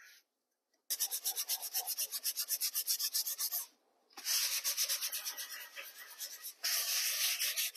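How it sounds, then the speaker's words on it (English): A wooden dresser is sanded over a crack with quick, rhythmic rasping strokes, close and bright, in three runs broken by brief pauses. "So I'm going to sand this a little bit, and you will never ever see it."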